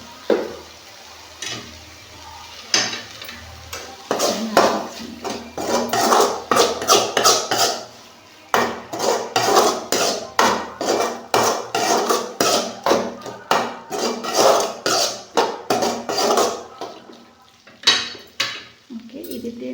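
Prawns for a Tamil-style prawn roast are sautéed in a pan, with rapid, repeated scraping and clanking of a metal spoon against the pan. The strokes come close and loud in steady bursts, under a faint sizzle, with no talking.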